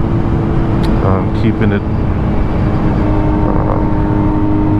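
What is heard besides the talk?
Kawasaki Z900 motorcycle with Mivv exhaust cruising in sixth gear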